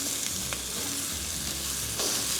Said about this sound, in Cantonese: 咁我會擺啲羊腩 fat downwards